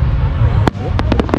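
July 4th fireworks burst over a huge crowd: one loud, sharp bang followed by a quick run of several more cracking explosions, set against a constant murmur of the crowd.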